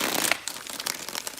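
Tarot cards being shuffled make a dry papery crinkling and riffling, close and fairly quiet, in several quick bursts with no talking.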